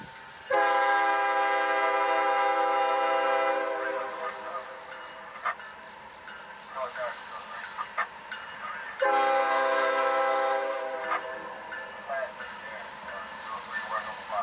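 A Norfolk Southern freight train on the Atlanta, Alabama and South line sounds two long, loud horn blasts as it passes, with rumbling and clattering wheels between and after them.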